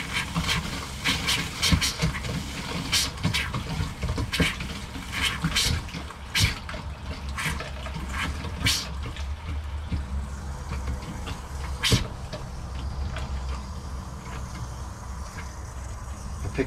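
Water mixed with antifreeze runs from a faucet in a Grand Design 2670MK travel trailer, a steady splashing flow with intermittent sputtering bursts and clicks, close by, continuing throughout.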